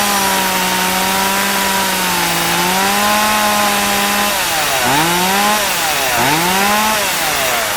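A STIHL MS170 chainsaw with a 16-inch bar and no chain brake runs alone at a steady close, loud idle-to-mid drone, then is revved twice in quick succession with rising and falling engine pitch.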